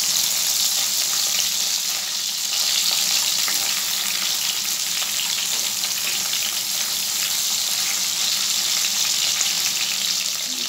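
Ridge gourd cooks in a covered pan, giving a steady, close, even sizzle with a soft watery hiss that holds unchanged throughout, with no talking.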